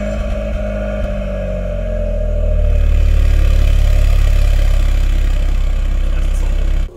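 A stage 3 tuned Toyota Yaris GR engine starts with a short crank, then settles into a steady, loud, deep idle that holds close by, with no voices.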